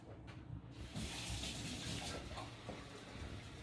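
Water runs steadily from a tap in a home kitchen or bathroom, a soft continuous gush of moderate loudness that starts after a short pause and carries on without talk.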